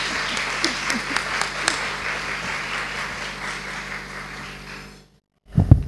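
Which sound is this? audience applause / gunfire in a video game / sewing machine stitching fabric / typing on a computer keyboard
audience applause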